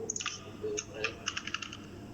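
Quick bursts of keystrokes clatter on a computer keyboard as text is typed, light close clicks in short clusters, with faint background noise and no clear talk.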